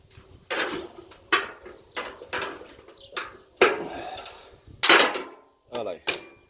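A Wolfcraft 32mm sink hole punch works through 1.5 mm stainless sheet metal, giving a close series of sharp, uneven clacks and metallic cracks separated by short pauses.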